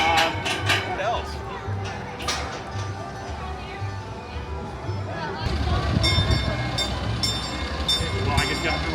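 The Galloping Goose rail car rolls along the track at Knott's Berry Farm with rumbling wheels, clicking rail joints and occasional squeals. Sharp tones rise near the end, and people talk over the ride.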